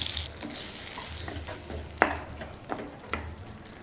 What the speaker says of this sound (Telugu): ఇదే నూనెలో టమాటో ముక్కల్ని వేసి వేయించుకుందాం